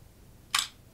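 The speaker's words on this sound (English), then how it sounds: "Shutter opens, and it will stay open as long as my finger is on that release." 35mm SLR camera shutter released once, a single short crisp mechanical click, close and clear against a quiet background.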